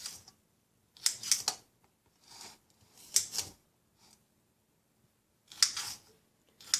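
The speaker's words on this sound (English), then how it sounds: "So we want about 1/4 cup of pepper. So I'm just going to be cutting this up." Knife cutting a pepper on a board for a breakfast burrito, producing a few crisp, close chopping crunches in short clusters separated by brief silences.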